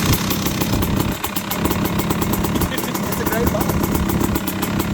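A KTM motorcycle engine cranks over on its starter and settles into a steady, loud idle with a rapid mechanical pulse, while a person talks over it.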